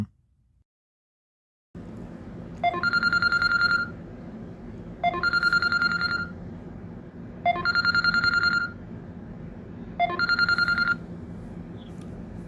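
Repeating electronic phone tones from an automated bank verification call, four evenly spaced bursts of about a second each over a steady background hiss.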